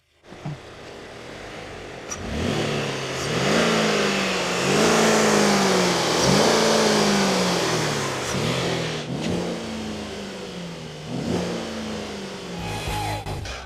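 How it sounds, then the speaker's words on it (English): A Cadillac SRX 4 SUV engine revs repeatedly, each rise in pitch followed by a drop, running loud and close with no talking. "Now listen to the sound of the engine."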